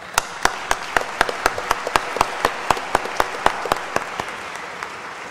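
A crowd applauds at a Colombian public literary forum on a national reading plan, the claps steady and fairly close, with no voices over them.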